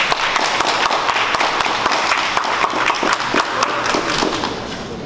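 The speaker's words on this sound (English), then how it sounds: "can we give Mr. Kelvin Miller a round of applause" An audience gives a round of applause for a guest speaker, a brief burst of scattered clapping at moderate loudness that fades out toward the end.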